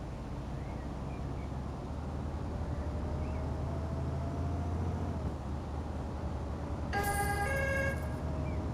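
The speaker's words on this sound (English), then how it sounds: "that was a police siren that just went off once" A police siren in the Construction Simulator video game on PS5 sounds once as a brief rising wail, loud and close, over a constant low vehicle engine drone.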